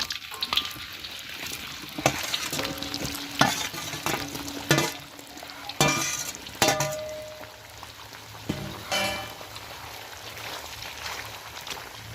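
Potatoes for french fries sizzle in hot oil, with scattered clinks and stirring sounds over a steady crackling fry; no one speaks.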